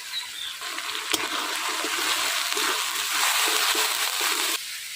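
Tomato with ground coriander, cumin, salt and turmeric frying in goat fat, giving a steady, close sizzle with light stirring and a brief clink.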